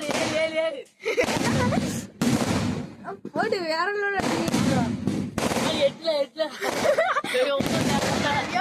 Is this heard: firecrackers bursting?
yes